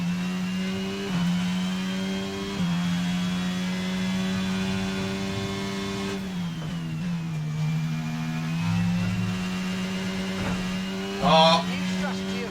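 A Formula 1 car engine in the racing game F1 22 at Jeddah drones steadily at high pitch, shifting tone as it slows for the pits and rising again briefly near the end, with someone talking over it.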